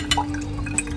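Liquid drips after being strained in a kitchen, a few close, distinct drops and small splashes over a steady low background hum.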